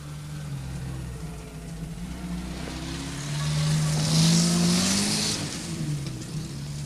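A car engine in a 1959 East German black-and-white film, a steady motor hum that rises in pitch and grows louder midway as it pulls away, then eases off.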